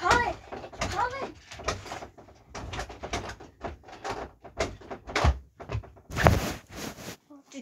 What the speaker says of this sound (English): The door keeps shaking.